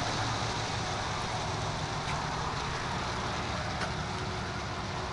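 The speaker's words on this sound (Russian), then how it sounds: "А вот и дождь" Rain setting in outdoors near a small roadside bus stop in Altai Krai during an evening storm, a steady broadband hiss of falling drops over a continuous low road rumble.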